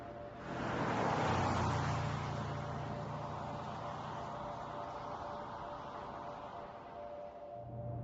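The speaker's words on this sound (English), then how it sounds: "the vehicle accelerates to the preset speed again" A Mercedes-Benz car on a road with Distronic adaptive cruise control accelerates back to its set speed, giving a smooth, steady rush of engine and road noise heard from inside the cabin, rising early and then holding.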